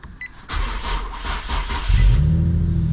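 A crashed Japanese-market car bought at a Copart salvage auction cranks over on a jump pack, catches and starts, then settles into a rising idle and rev, loud and close, with no talk.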